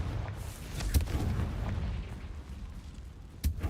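A Confringo fire curse exploding in Hogwarts Legacy: two sharp booming blasts about two and a half seconds apart, with a low rumbling bed between them.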